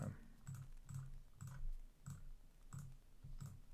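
A computer mouse clicks on checkboxes in about eight evenly spaced, crisp clicks, roughly two per second, close and faint with no voices.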